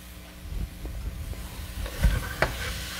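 Shrimp, kale and radishes fry in a pot over very high heat with a steady sizzle and hiss, broken by a few clanks and scrapes of stirring, close up with no talking.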